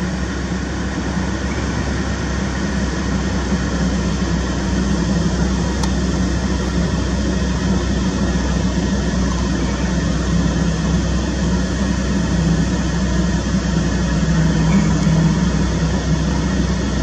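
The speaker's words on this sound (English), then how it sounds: "There's another helicopter coming in." A constant, loud mechanical drone with a low throbbing pulse holds steady throughout as a helicopter hovers nearby during Southern California wildfires; no voices.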